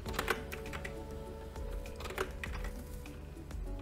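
Quiet rapid typing of code on a computer keyboard, continuous clicking keystrokes at a steady pace with no speech.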